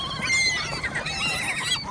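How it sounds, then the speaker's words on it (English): Seagulls squawk and fight over thrown food at an off-grid building site, a burst of overlapping harsh, wavering calls close by. "Dude, we just fed the seagull."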